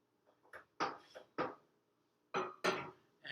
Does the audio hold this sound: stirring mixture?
yes